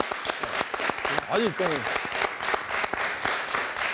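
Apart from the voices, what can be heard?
applause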